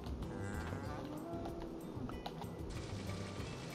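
A cow moos in the farming video game Story of Seasons: A Wonderful Life, one drawn-out low call rising and falling over a soft background hum, with no talking.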